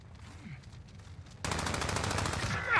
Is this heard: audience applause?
no